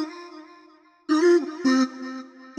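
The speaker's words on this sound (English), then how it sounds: "I went ahead and found some vocal chops from Splice." Vocal chop samples from Splice play alone as a sustained sung tone, followed by two brighter chopped vocal bursts that stand out in a short loop.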